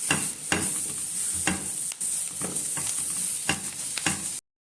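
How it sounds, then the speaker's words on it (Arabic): Garlic cloves cut into chunks sautéing in a pan: a steady, close sizzle with a bright hiss, broken by periodic scraping stirs about once a second, with no talking. "تشويحة بس كده بسيطة لحد بس ايه ما ريحة الثوم بس تطلع"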